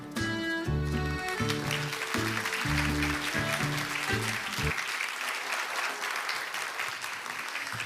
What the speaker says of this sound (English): Why don't you give another big round of applause?